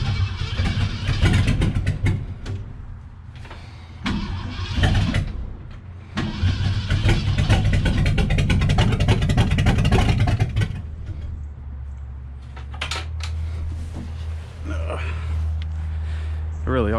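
A 1966 Ford Galaxie with a 390 FE V8 is cranked and fired up for the first time. Loud repeated cranking and rough revving give way to a lumpy idle, with people talking over the engine.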